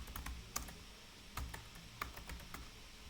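Someone types on a computer keyboard, with light, irregular key clicks close by for a few seconds and no talk.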